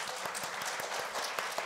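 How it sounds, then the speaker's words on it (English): Conference audience applauding a panel of speakers after a policy discussion, a steady wash of many hands clapping at moderate volume with a few sharper claps standing out. "If we can give them a round of applause."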